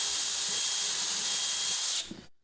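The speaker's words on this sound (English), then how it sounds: "And I'll go ahead and drill these holes." Drill running steadily while boring holes in a filament drybox, a loud, close, continuous hissing whir for about two seconds before it stops abruptly.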